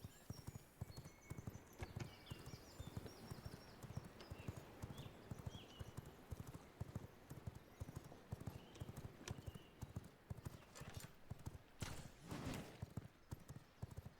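Steady, rapid clip-clop of a galloping horse's hooves in the video game V Rising, close and continuous for the whole stretch, with a few faint whinnies and soft game effects layered over the rhythm.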